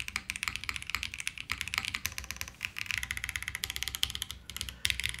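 Rapid, steady typing on a KBDFans KBD8X mechanical keyboard, dense clicky keystrokes close up and fairly quiet, continuing throughout with no talking.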